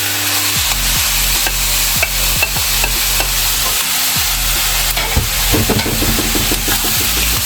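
A utensil scrapes and knocks repeatedly against a frying pan as kimchi fried rice is stirred, loud and close over a constant hiss of frying, with no talking.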